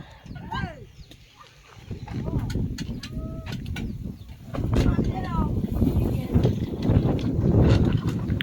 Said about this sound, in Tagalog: Grabe, nabuhay na naman ang hangin.